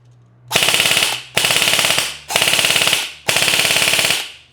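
An airsoft gun firing on full auto in four separate bursts, each a rapid, loud, evenly spaced rattle of shots lasting about half a second to a second, with short quiet gaps between bursts and no talking.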